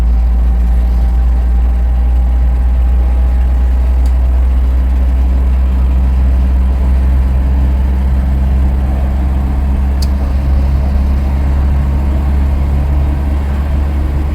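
A Land Rover treated with Voltarent accelerates steadily in fifth gear, its engine a low, constant drone under road and cabin noise, with no voices heard.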